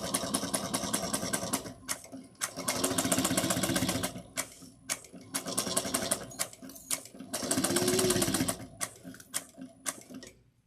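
A home sewing machine stitches a zipper pouch in three or four close, steady whirring bursts of rapid needle strokes, with short pauses and clicks between runs.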